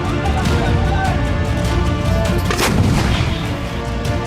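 Tank fire from Merkava tanks near the Lebanon border, a loud continuous rumbling roar with blasts and one heavier boom in the middle, no voices.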